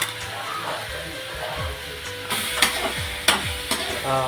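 Chicken frying in a pan with ginger garlic paste for green chilli chicken, a steady sizzle with repeated spoon stirring and scraping knocks against the pan.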